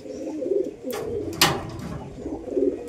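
Indian and Rajshahi Giribaz pigeons, one Indian bird fifteen years old, give low throaty coos in a few short bursts, close by, broken by brief rustling or flapping noises.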